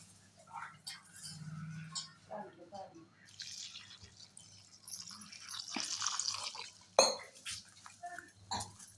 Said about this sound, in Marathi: ह्याच्यामध्ये मी पाणी टाकून घेते आणि ते स्वच्छ धुवून घेते